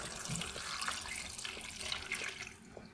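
Water pours from a watering can onto a tray of potted seedlings indoors, a continuous splashing trickle lasting throughout, close and fairly quiet.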